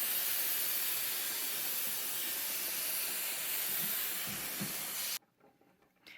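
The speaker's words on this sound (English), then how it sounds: "let's go ahead and push the steam button and see what we got. Yeah, that's some steam." Steam hisses loud and steady from a Reliable 4000is boiler iron as fabric is pressed for about five seconds, then cuts off abruptly, leaving near silence with faint handling sounds.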